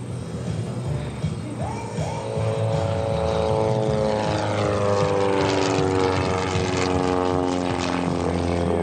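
A propeller aerobatic airplane of about 100 horsepower drones overhead at an airshow, its engine pitch sweeping up and down through rolls and loops, loud and continuous throughout.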